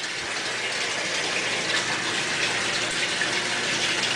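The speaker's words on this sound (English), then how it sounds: "I'm going to run a little more water while we're doing this." Water from a faucet gushes steadily into a partly full, slow-draining sink, a loud, continuous, close rush with no talking.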